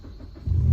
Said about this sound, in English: It's a muffler and a resonator delete.